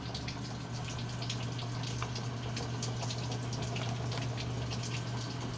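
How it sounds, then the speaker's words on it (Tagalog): Water runs steadily into a Samsung automatic washing machine under repair for a no-water-input fault, a constant gushing fill with a low steady hum beneath it, close and unbroken. "Medyo okay naman po ipasok ng tubig,"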